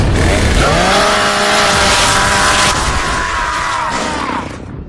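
The chainsaw melee attack from the video game Gears of War: a loud, snarling motorized revving with rising and falling pitch, mixed with a guttural yell, sustained for several seconds before tapering off.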